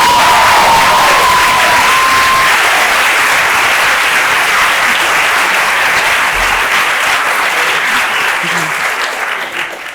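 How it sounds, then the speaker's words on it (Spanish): Loud, sustained applause and cheering from a large audience greeting author Jay Kristoff at a public meet-and-greet event, dense clapping filling the whole span before easing slightly near the end. "que no es otro que Jay Kristoff, al que podéis dar otra ovación."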